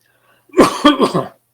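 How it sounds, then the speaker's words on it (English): A lecturer in a university lecture hall breaks into a short coughing fit: three or four rough, breathy bursts in quick succession, close and fairly loud, then quiet. "I had a coughing fit."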